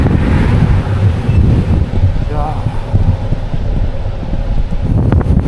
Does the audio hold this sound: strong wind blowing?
yes